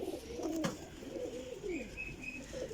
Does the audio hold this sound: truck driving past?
no